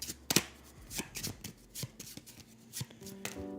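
Playing cards for a Wrath of the Lich King board game are shuffled close up in a quiet room, a run of crisp riffling bursts and soft slaps that repeat in quick succession, with no talking.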